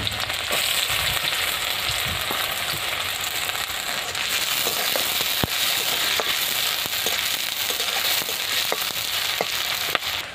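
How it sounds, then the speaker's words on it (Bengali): Sliced onion and slit green chillies frying in oil with nigella seeds produce a loud, steady sizzle, dotted with occasional crackles and light stirring clicks, with no talk over it. "কালো জিরে আর পেঁয়াজটাকে কেটে রেখেছিলাম, পেঁয়াজটা দিচ্ছি। আর কাঁচা লঙ্কা চেরা, এই যে কাঁচা লঙ্কা চেরা এটাও দিয়ে দিচ্ছি।"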